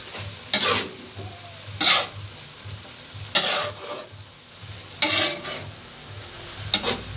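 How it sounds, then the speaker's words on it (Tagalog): Pansit noodles fry in a pan while being stirred, with loud scraping strokes at irregular intervals over a low, steady sizzle, close up and without talk. "So habang hinahalo ko guys, yung ating nilulutong pansit"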